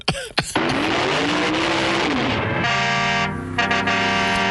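Menacing car from the horror film The Car, a loud sustained engine roar with rising and falling pitch, sharp bursts at the start, and a blaring horn-like tone taking over near the end.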